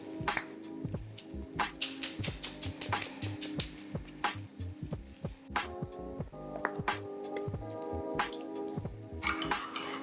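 A spoon stirs honey into a sauce with repeated clinks and scrapes against the dish, forming a busy, close run of metallic taps throughout.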